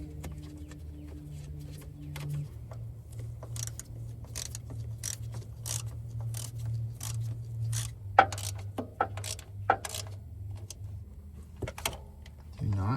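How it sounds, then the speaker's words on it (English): Truck bolts are started and tightened with a ratchet, giving a series of sharp clicks and metallic taps over a low steady engine or mechanical hum. Speech is heard in the background. "Let's get our bolt started. Top one started."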